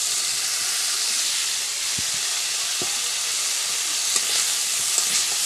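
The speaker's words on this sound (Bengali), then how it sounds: "আলু দিয়ে খানিকক্ষণ নাড়িয়ে একটু রেখে দেবো, কষা হতে থাকবে" Pumpkin stems fry in a pan as already-fried potatoes are stirred in, giving a loud, even hiss of sizzling oil throughout, broken by a few light scrapes and taps of the spoon.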